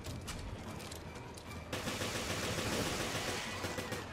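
Gunfire in the Resident Evil Revelations video game, rapid bursts of shots that grow into a denser, louder continuous volley partway through, with no talking over it.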